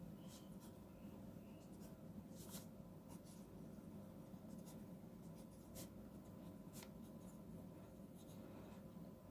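A Gama ebonite eyedropper fountain pen with a fine nib writes on paper. It gives soft, continuous scratching close up, with occasional sharper tick-like strokes over a low, steady background hum.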